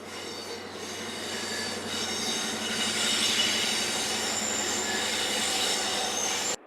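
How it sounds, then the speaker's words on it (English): A Virgin Trains high-speed train on an Aberdeen to London King's Cross service rolls past with a steady loud roar and high metallic wheel squeal, the sound swelling and holding before cutting off abruptly. "This high-speed train is forming a Virgin Trains Aberdeen to London King's Cross service"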